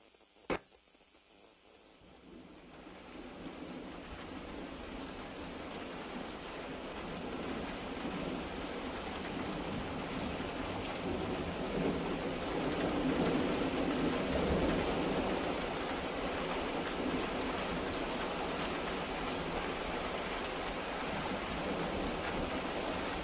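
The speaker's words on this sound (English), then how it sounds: "It was Rain on a Tin Roof." Rain on a tin roof plays as an ambience recording, a steady dense patter that swells after a sharp click at the start and continues without a break, with no distinct thunder.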